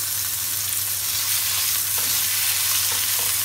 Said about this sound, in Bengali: এবার সমস্ত সাইড আমি ঘুরিয়ে ঘুরিয়ে খুব ভালোভাবে ফ্রাই করে নেব।